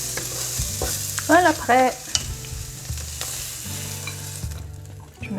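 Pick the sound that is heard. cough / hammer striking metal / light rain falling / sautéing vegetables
sautéing vegetables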